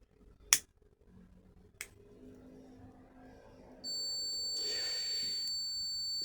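An electronic ghost-hunting device gives off a steady, high-pitched ringing tone that holds for the last couple of seconds, following two sharp clicks in a quiet room.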